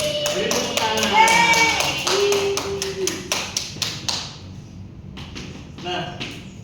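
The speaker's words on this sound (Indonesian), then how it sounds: "Beri tepuk tangan" Schoolchildren in a classroom clap together in a quick burst of sharp taps, mixed with young voices, then a few scattered claps trail off.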